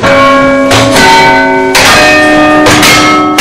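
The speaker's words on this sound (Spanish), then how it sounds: "Sus campanas os impresionarán por su número y sobre todo por su tamaño, aunque lo mejor es hacerlas sonar." Carillon bells in Antwerp ring out loud and close, several large bells striking in succession with long, rich overtones that hang and overlap between strikes.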